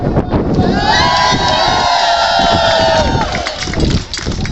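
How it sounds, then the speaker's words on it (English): A crowd at a transgender rights rally cheers and applauds loudly and continuously, with shouts and whoops rising over the roar. "How about a round of applause?"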